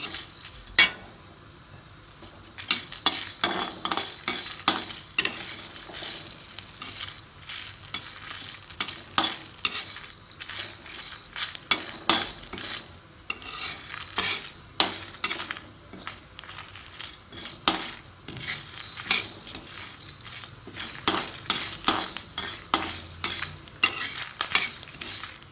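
Potatoes frying in a pan for an aloo fry, with steady sizzling broken by frequent scraping and clinking stirs of a utensil against the pan, close and fairly busy throughout.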